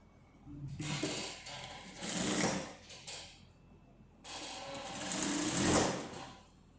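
A sewing machine stitches a sleeve onto a wrap dress, running in two long whirring bursts separated by a brief pause, close and clear with no talk.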